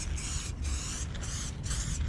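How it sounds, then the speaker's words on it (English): A spray paint can fitted with a wide fat cap hisses in three long bursts separated by brief pauses, loud and close, with no voices over it. "you'll probably do another highlight color against that big spray using a fat cap there"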